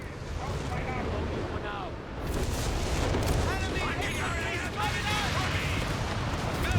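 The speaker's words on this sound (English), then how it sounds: "There's another Whizbang onto the bunker" Whizbang rocket artillery firing in Company of Heroes 3, a dense rumbling barrage of rocket launches and blasts with whooshing streaks, steady and loud throughout, with someone talking over it.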